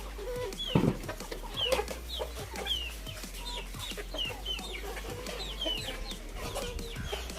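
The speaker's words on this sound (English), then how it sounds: "So this is the chicken house, and these are the chicken." Chickens inside a chicken house on a farm cluck repeatedly at close range, with short rhythmic calls over a steady low hum.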